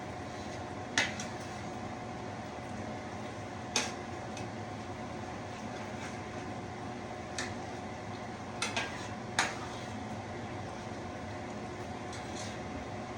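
A shepherd's pie filling, juicy and coming to a boil, is stirred in a pot, giving a steady simmering hiss with a few sharp spoon clicks scattered through it; no one talks.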